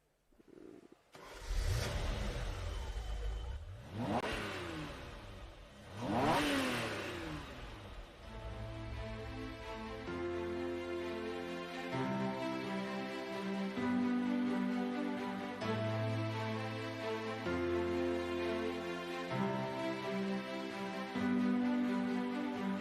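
Ferrari car engine starting and revving: three sharp rising revs in quick succession, then a steady throbbing idle with shifting tones, close and fairly loud with no voices.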